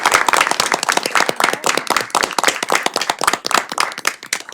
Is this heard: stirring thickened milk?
no